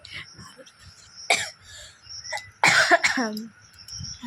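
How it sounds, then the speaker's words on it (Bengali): A person with a heavy cold coughs about three times, in sharp, close, harsh bursts separated by quiet pauses. "আর কাশি হচ্ছে আমার, এখন ঠান্ডা লেগেছে প্রচুর।"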